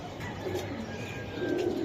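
Giribaz racing pigeons of a paired line coo in low, soft, continuous murmurs, close by and fairly quiet, with no voices over them.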